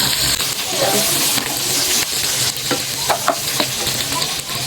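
Onion sizzles loudly in a hot pan while cooking pork steak, a dense continuous frying hiss with scraping stir strokes and a few sharper crackles toward the end.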